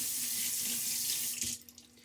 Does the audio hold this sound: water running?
yes